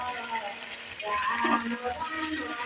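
Steady sizzling of ginger-garlic paste frying in a pan with potatoes, with a brief stir or scrape midway; no voices.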